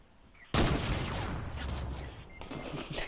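Video game gunfire: a sudden loud burst of rapid shots breaks in after a quiet start, then continues as dense, close, sustained firing with a brief dip before picking up again.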